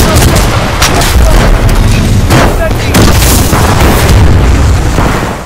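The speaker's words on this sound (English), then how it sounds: "Incendiary trap" An incendiary trap in Titanfall 2 goes off inside a central building of the Angel City map, a loud, dense roaring burst of explosive noise that fills the whole stretch with sustained rumbling and crackle.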